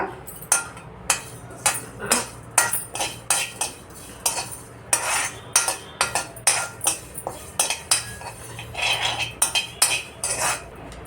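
Chili seeds roasting dry in a metal pan, stirred with a spoon that scrapes and clinks against the pan in quick, irregular strokes. The sound is close, with no voices.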